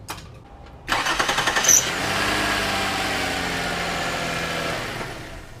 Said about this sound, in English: Let me go crank it up to see it's starting good or not.